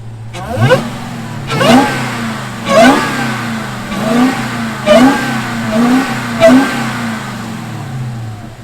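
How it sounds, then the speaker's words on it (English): A 2021 Dodge Charger SRT Hellcat Redeye Widebody revving up close, about seven rhythmic blips of rising engine pitch with the supercharger whine climbing over each one, loud and with no talk. "you can hear the supercharger just flip in with that whine"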